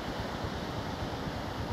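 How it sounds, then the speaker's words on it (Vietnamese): Strong sea waves crash on a beach on the Bình Thuận coast during the northeast monsoon season, a loud, dense, continuous roar of surf mixed with wind noise. "sóng đánh rất là mạnh"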